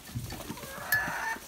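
Chickens cluck softly on a farm kept with ducks, geese and sheep, a few short close clucks over low ambient noise.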